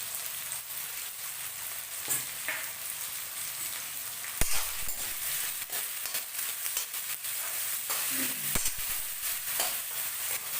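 Fish fries in hot oil with a continuous crackling sizzle. A few sharp knocks and scrapes from a utensil cut through it.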